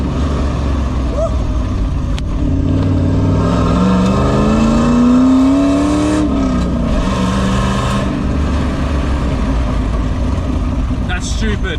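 An LS1-engined Nissan Patrol drives and accelerates, its V8 engine note climbing steadily in pitch over several seconds before easing off, loud and close throughout, with people talking in the cabin.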